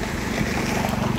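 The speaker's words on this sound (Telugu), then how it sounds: "ఇక్కడ చూడండి, వాటర్ సౌండ్ చాలా అద్భుతంగా వస్తుంది" River water rushes steadily at a fishing spot, a dense, windy whoosh of flowing current that fills the short moment close and loud with no voices.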